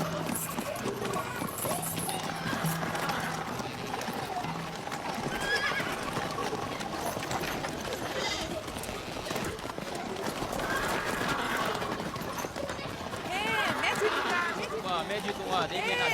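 A horse gallops with rapid, steady hoofbeats while repeatedly neighing and whinnying, the hooves running continuously and loud, with voices talking over the action at times.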